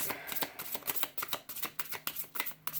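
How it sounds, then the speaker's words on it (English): A deck of tarot cards being shuffled up close, a quick, steady run of crisp papery flicks and slaps with no talking. "we'll do one more shuffle"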